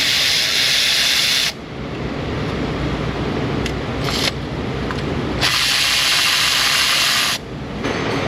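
A power tool removes valve cover bolts on a Ford F-150 in a workshop, running in loud, harsh bursts of a few seconds each, separated by short pauses, with no talk.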